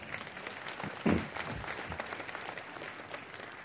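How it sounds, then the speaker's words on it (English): Applause from the audience at a 2009 State of the University address, a moderate round of clapping that swells briefly and then continues steadily and fairly evenly for several seconds. "This is time for applause."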